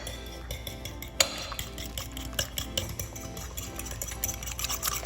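Eggs being whisked with grated Pecorino Romano in a bowl, quick rhythmic clinks and scrapes of the whisk against the bowl at close range, with one sharper knock early on and no talking.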